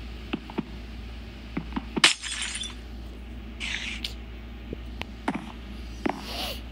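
Glass shattering in the Minecraft video game, a bright crash around the middle of the clip among quieter clicks and taps of gameplay, with a faint hiss of ambient sound and no speech.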